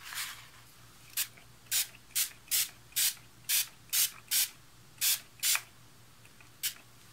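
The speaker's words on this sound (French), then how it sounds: "à présent je vais appliquer ce spray" Short hissing bursts from an ink spray can misting scrapbook paper, about a dozen quick sprays in an uneven rhythm, some doubled, close and crisp over a faint steady background hum, with no voices.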